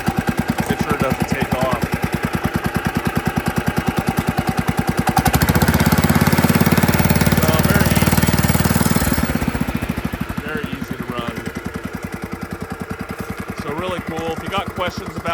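Vintage 1964 Abe Mathews Trailmaker snowmobile engine firing up, a rapid loud chugging beat that swells into a heavier roar with throttle for a few seconds, then settles back to a rough, rattly idle, close by, with someone talking over it.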